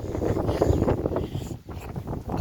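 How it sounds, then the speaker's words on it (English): Gusty wind buffets the microphone during a bike ride, a loud rumbling roar that swells and briefly dips before returning. "it's quite windy"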